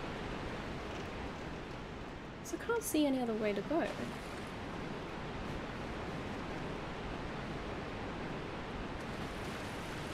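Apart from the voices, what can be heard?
waterfall in Dark Souls video game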